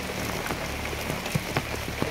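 Rain falls outdoors in a steady, dense hiss, with scattered drip-like ticks throughout.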